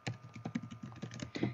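Quick, uneven keystrokes on a computer keyboard while messages are typed, a close run of roughly a dozen light clicks over a second and a half with no talking.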